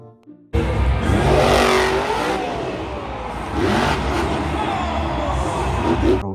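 A monster truck engine revs loudly and close, holding a strong, rough roar with a rising pitch that swells and eases over several seconds.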